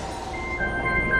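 A train at Kyoto station gives off a steady, close electric hum with thin tonal whines rising and wavering over the station's background noise.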